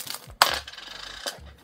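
Two quarter coins shifting and clinking inside a Z-bar snack wrapper, a sharp metallic rattle near the start and another around the middle, close up with light crinkling between.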